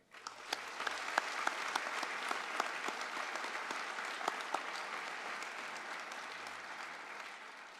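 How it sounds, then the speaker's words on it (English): Graduates and guests at a college convocation ceremony break into a round of applause, with sharp individual claps standing out early before the sound settles into an even, moderately distant patter that fades at the end. "could you please join me in a round of applause for them as well"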